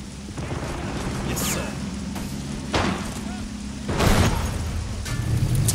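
Battle sounds in the World War II strategy game Men of War Assault Squad 2, including a rifle grenade explosion: several sharp booms and impacts over a low rumble, with the loudest blast near the end.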